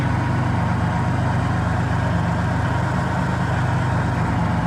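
A Buick Reatta engine idles just after its exhaust leak was repaired, with a steady, close, even low rumble that holds through the whole stretch and no speech over it.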